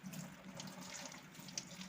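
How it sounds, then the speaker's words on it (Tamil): Tap water running gently at a sink while a washing-machine filter is rinsed, a faint, steady splashing trickle with small drips heard alone. "அதுக்காக லைட்டாக தண்ணி ஓப்பன் பண்ணிவிட்டு"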